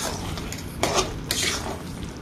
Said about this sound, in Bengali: দেখতেই পাচ্ছ আমি মশলাগুলো নাড়ছি, কষা হয়ে যাচ্ছে।